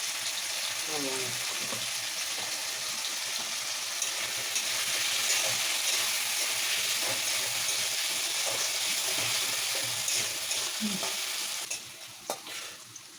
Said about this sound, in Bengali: সামান্য নুন আর হলুদ দিয়ে দিলাম আলুগুলো ভাজাটা সুন্দর হয়